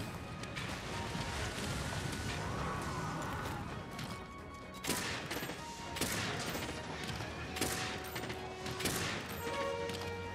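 A bowgun in the video game Monster Hunter World fires a handful of sharp, loud shots at irregular intervals in the second half, set against dense, continuous battle noise and clattering impacts.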